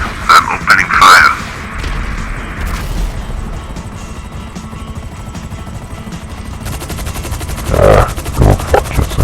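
Gunfire in Grand Theft Auto: bursts of rapid shots over a steady helicopter drone, loud and close, with a few heavier booms near the start and again toward the end, and voices in the mix.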